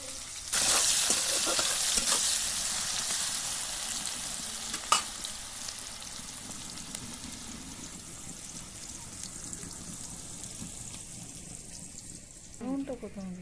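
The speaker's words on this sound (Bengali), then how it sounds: "লঙ্কা ফোড়ন দিচ্ছি। পেঁয়াজ ছেড়ে দিচ্ছি।" Dried chili and onions hit hot oil in a pan with a loud hissing sizzle that slowly settles into a steady fry, broken by a few sharp stirring clicks and a brief clatter near the end.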